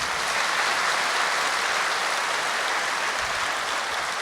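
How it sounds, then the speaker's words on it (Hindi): An audience at a spiritual discourse claps continuously, a dense even wash of many hands held at a steady level from start to finish. "भाई ताली तो बजाओ।"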